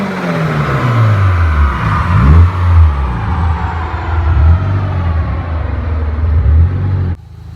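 A Honda S2000 with a Rotrex supercharger and AEM Infinity engine management revs hard up against a rev limiter stuck at 7,500 rpm. Its loud, close engine note climbs and falls repeatedly, then cuts off abruptly near the end.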